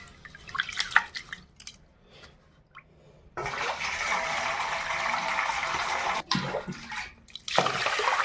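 Rice being washed in water for the fifth time: scattered drips and splashes, then a sustained rush of water being poured or swirled, broken briefly before resuming, close and fairly loud.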